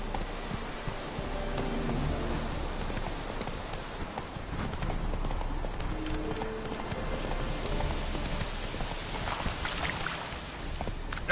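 Hooves of the horse Roach galloping in The Witcher 3: Wild Hunt, a steady rapid clip-clop rhythm running throughout over a busy in-game soundscape, fairly loud and continuous.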